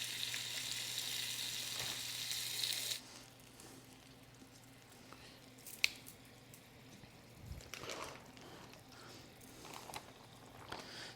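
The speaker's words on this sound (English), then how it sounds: "That sizzle though." Marinated chicken for street tacos sizzles in a hot pan, a loud hiss for the first few seconds that then drops to a quieter crackle with occasional clinks and scrapes.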